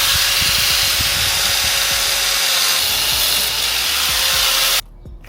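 A fuel line for a GSX fuel system is cut with a power tool, giving a loud, continuous whining grind that runs steadily for almost five seconds before stopping abruptly, leaving near silence.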